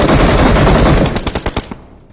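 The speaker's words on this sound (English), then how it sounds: "he's getting shot by somebody else" Rapid automatic gunfire from a mobile battle royale shooter game, PUBG Mobile: a dense, loud burst of shots that breaks into several separate, spaced cracks before fading out, with no voices.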